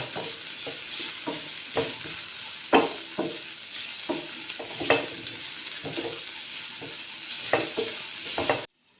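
Green chillies and spices frying in a pan with a continuous sizzle, punctuated by repeated scraping and knocking as a spoon stirs them, before the sound cuts off abruptly.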